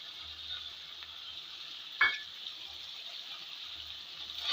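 Fish pieces hiss and sizzle in hot oil in a pan for a cauliflower curry, a faint steady frying hiss with one soft clack midway and no talking.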